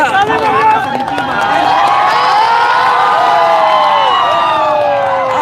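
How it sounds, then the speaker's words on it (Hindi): A large crowd of students at a political rally cheers and shouts loudly in a continuous, dense roar with many overlapping voices. "ताली बजाइए"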